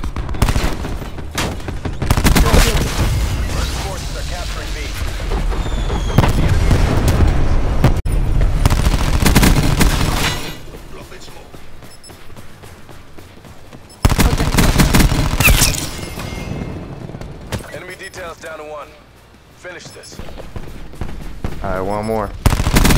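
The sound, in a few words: gunfire in the video game Call of Duty Black Ops 4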